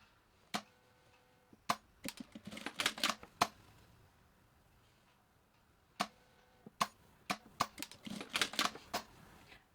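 Sewing machine stitching a fabric handle onto a zipper for a small purple pouch, sounding in two bursts of quick clicking, rattling stitches separated by quiet pauses, close and fairly clear with no talking.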